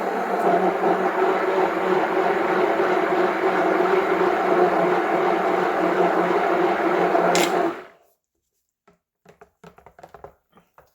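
An electric mixer whirs loudly and steadily through honeydew melon dessert batter for about eight seconds, then cuts off, leaving faint scattered clicks and taps.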